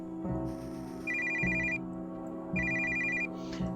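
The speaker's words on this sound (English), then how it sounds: "That's the phone." A telephone rings in a creepy horror video game set around a well: an electronic ringtone in repeated bursts, each pair of trills separated by short pauses, steady and clear with no talking.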